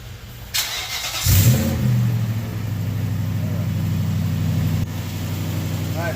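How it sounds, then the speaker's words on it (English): A 2004-2015 Nissan Titan pickup engine cranks and catches with a brief rev, then settles into a steady, close idle that runs to the end, with a small click partway through. "Go ahead and start the truck."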